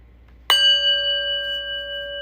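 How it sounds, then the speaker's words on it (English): A single bell strikes once and rings on with a clear, sustained metallic tone that slowly fades, heard alone in a quiet space. "we're going to ring the prayer bell, listen to the prayer bell,"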